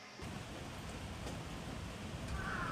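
Steady rain falls on a morning in Kyoto, Japan, a soft, even hiss of drops on surfaces, close and continuous with no voices.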